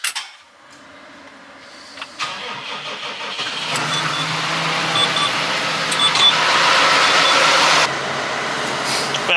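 An old T7 tractor engine cranks, fires and settles into a steady mid-pitched running note that rises in revs. It is fairly loud and close, with no talk over it.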